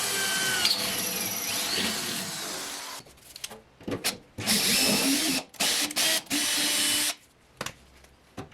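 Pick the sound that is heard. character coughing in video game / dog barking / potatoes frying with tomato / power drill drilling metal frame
power drill drilling metal frame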